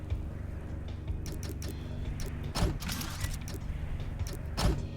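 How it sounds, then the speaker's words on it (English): Welding machinery in the Infinifactory factory-building game gives off a steady mechanical hum with creaking clicks, punctuated by two brief louder bursts of hissing clatter. "And we can weld up."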